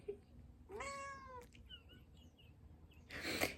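A cat meows clearly indoors, a drawn-out high-pitched call followed by a few faint chirps and a short, harsher meow at the end, with no talking.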